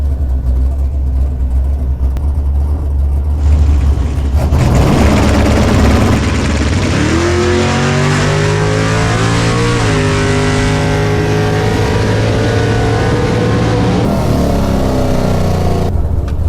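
A drag racing dragster engine at the start line, loud and continuous, with a sustained roar that climbs in pitch as it revs and accelerates, then holds steady before cutting off near the end.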